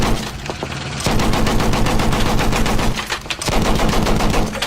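A vehicle-mounted heavy machine gun fires in Battlefield 1, long rapid bursts of loud, booming shots with a brief pause between them, close and dominant.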